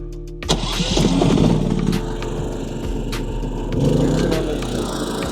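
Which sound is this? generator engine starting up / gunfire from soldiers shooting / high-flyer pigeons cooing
generator engine starting up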